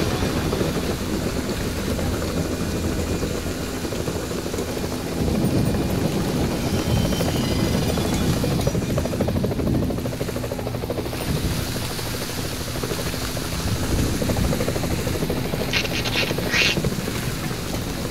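Helicopter in the video game Splinter Cell Double Agent, a loud continuous rotor and engine rumble lasting throughout, with some clatter and brief high chirps near the end.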